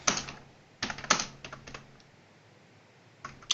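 Typing on a computer keyboard, close and fairly quiet: short bursts of key clatter separated by pauses, with a quick flurry at the end.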